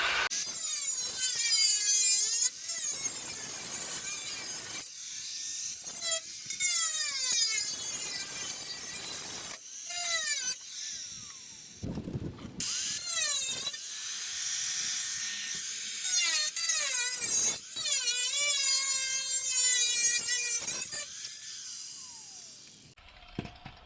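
An angle grinder cuts into a carbon fiber fender for an Infiniti G35 to G37 front end conversion, loud whining bursts that rise and fall in pitch with short pauses between passes.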